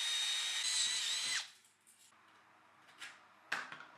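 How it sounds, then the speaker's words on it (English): A power drill bores out old rivets on aluminium box section, a steady loud whine lasting over a second before cutting off, followed by faint clicks and a couple of brief tool bursts. "First, I'll get these old rivets drilled out."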